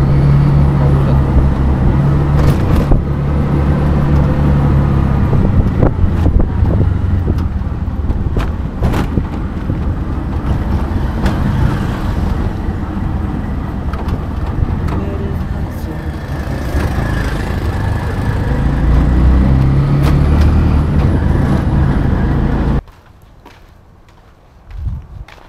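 An auto rickshaw carries riders through road traffic, its engine a steady rumbling drone with passing vehicles, bumps and occasional honks, loud and continuous before dropping away suddenly near the end.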